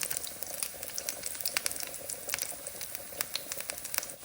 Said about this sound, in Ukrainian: Салко шкварчить.